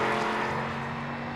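A race car completes its first qualifying lap at Watkins Glen with a loud, steady engine drone that eases slightly as it passes.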